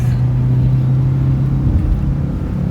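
Car engine droning steadily while driving on a road in Palawan, a loud continuous low rumble heard from inside the vehicle.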